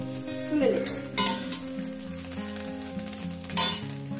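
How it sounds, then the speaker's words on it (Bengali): Egg frying in oil in a pan: a steady close sizzle throughout, with a few louder scraping clatters of a utensil against the pan. "এবার আমার ডিমটা ভাজা হয়ে গেছে"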